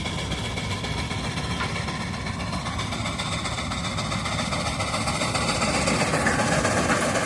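Steam engine tractor at a tractor pull, a loud continuous low chugging rumble with mechanical rattle building slightly toward the end, close by and without talk.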